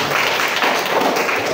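Brief, dense applause from a gathered audience at a school coaching session, a loud continuous wash of many hands clapping together without pause.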